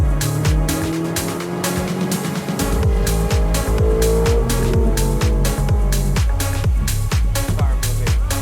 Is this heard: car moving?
yes